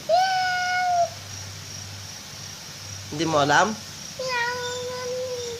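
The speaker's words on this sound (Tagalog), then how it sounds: "Cat." A cat meows twice, with long drawn-out calls at the start and near the end and a rising, wavering caterwaul-like cry in the middle, heard close over a low hum with a person speaking briefly.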